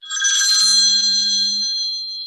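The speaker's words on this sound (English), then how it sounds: "Who's got a phone ringing?" A mobile phone rings loudly in a bar, a steady electronic ringtone with bright tonal bursts sustained for about two seconds, with no talk over it.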